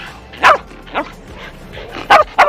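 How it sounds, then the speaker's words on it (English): Piper, a dog, barks in several sharp, loud bursts, close by, with two quick barks near the end. "And Piper does nothing but bark."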